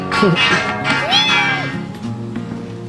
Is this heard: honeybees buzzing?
no